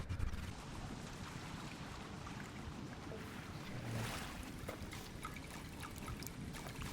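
A waterfall in the video game Sable rushes as a steady, broad wash of falling water, moderately quiet and continuous, with no one talking.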